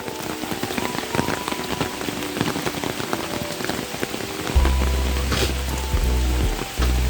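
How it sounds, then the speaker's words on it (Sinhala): Steady rain falls all day over Lellopitiya village in Ratnapura, a dense patter of drops striking nearby surfaces, joined midway by a heavier low rumbling wash. "රත්නපුර ලෙල්ලොපිටිය ගමට නම් දවසම වහිනවා"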